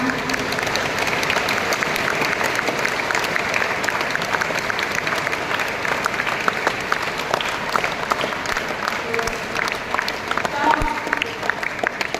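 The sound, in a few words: audience applauding at school Founders Day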